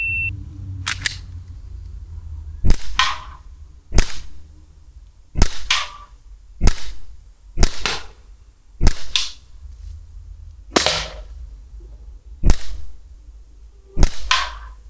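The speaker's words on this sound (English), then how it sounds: "I've installed new CO2 ampule. And let's shoot." Umarex Glock 17 CO2 air pistol firing, about a dozen sharp, loud, close cracks at irregular intervals of roughly one to two seconds, with quiet pauses between shots.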